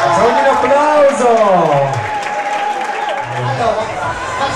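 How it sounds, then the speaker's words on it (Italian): An audience applauds at the finale of a winter beauty pageant, the clapping and crowd noise running steadily beneath a loud voice and music throughout. "Facciamo un applauso!"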